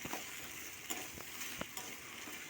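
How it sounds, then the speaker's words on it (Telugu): Okra pieces frying in hot oil for a masala curry, a faint continuous sizzle broken by several soft scrapes and knocks of a spatula stirring in the pan. "ఆయిల్ హీట్ అయిన తర్వాత బెండకాయలు వేసుకోవాలి వేసుకొని కలుపుకోవాలి"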